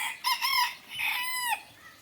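Chickens clucking nearby in a spring park, a few drawn-out, rising and falling calls, with no talking.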